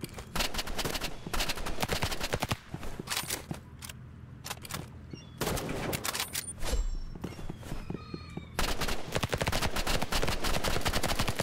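Video game gunfire crackles in dense, rapid bursts, loud and close, with short gaps between volleys and a sniper rifle in play.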